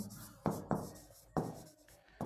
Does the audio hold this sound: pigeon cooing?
no